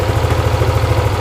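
A Yamaha Aerox scooter engine idles steadily while warming up, a close, even low rumble with a faint regular pulse and no talk over it.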